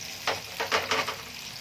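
Zucchini and garlic frying in hot oil while a spoon stirs them, giving a steady close sizzle broken by four or five brief louder scraping bursts of stirring.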